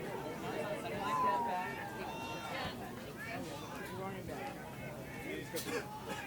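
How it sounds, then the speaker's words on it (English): Crowd of spectators shuffling into a quidditch match venue at the US Quidditch Cup, a steady mixed babble of many voices with scattered movement, fairly close and continuous throughout. "as this crowd continues to shuffle in"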